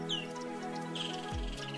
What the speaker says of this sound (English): Their twittering, chirping and singing fills the air with a bit of magic on every drive.